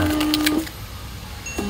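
A SATO CG408TT thermal label printer runs a manual test print, giving a short steady whirring tone with faint clicks, then a pause and a second brief tone, close and moderately loud.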